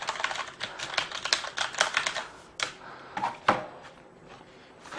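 Keys clatter on a Corsair Vengeance K90 mechanical gaming keyboard, with loud, quick bursts of clicky typing separated by short pauses, close up and with no voices.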